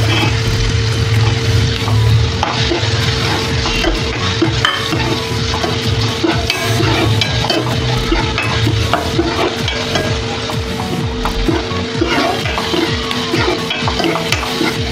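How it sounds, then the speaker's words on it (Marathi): Onion sautéing in hot oil for a spinach bhaji, a loud, close, continuous sizzle and crackle with frequent stirring and scraping against the pan. "कांदा छान लाल परतून द्यायचा"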